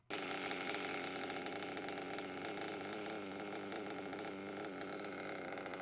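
A small nitro model engine runs continuously while its needles are tuned, a loud buzzing whine that starts abruptly and holds steady with slight wavering, no voices.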